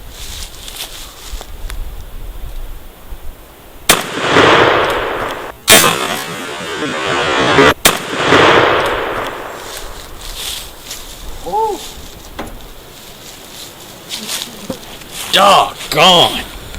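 Shotgun firing Winchester 3-inch 5-shot turkey loads while patterning outdoors, three loud sharp blasts a couple of seconds apart, each with a brief rolling tail, followed by quieter rustling and short voiced sounds.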